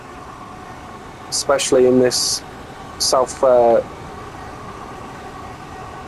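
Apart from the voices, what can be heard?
Class 465 electric train running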